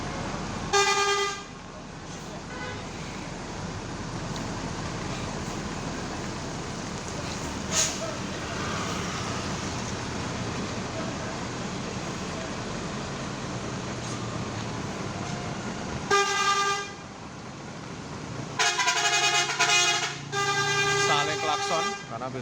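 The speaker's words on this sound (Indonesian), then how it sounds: "Klakson karena biasanya jam mepet ya." Loud vehicle horns blare in short honks near the start and again toward the end, over steady rumbling road noise at the exit of Purabaya Bungurasih bus terminal in rain.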